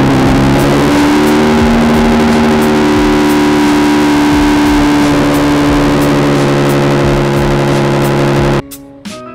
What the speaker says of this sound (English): So I cold start it, it's like ridiculously loud.